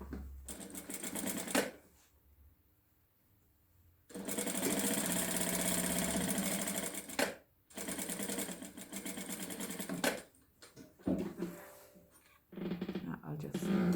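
A sewing machine stitches the sleeves of a communion dress, running in several long whirring bursts separated by short pauses, close and fairly loud.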